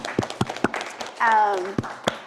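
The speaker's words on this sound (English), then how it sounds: "Big round of applause for them." A small audience thanks panelists at a workplace equity and inclusion discussion with a handful of sharp, scattered hand claps, close and separate, and a brief voice sound rises in the middle.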